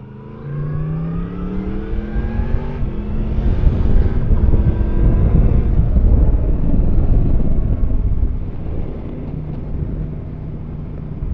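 Traffic jam heard from a motorcycle: engine rumble and passing vehicle noise with wind buffeting, fairly loud and continuous, with no one speaking.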